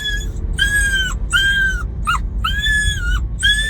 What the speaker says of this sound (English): This is how excited these two little dogs get when they know they're going in the work